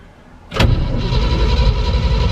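A 1963 Chevy C30 truck engine turns over with a sharp onset, then a loud, steady, rough churning that continues close by without a break and with no voices.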